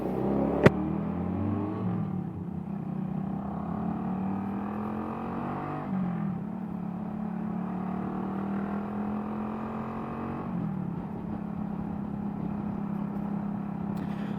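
A Yamaha YBR 125 motorcycle fitted with a custom exhaust is ridden along, its engine droning steadily and rising in pitch before dropping at a few gear changes, with a sharp click near the start.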